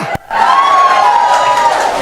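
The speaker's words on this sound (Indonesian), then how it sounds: "Tepuk tangan, haleluya." A church congregation claps and cheers during worship, a broad sustained crowd roar with a held tonal note running through it, steady and loud after a brief pause.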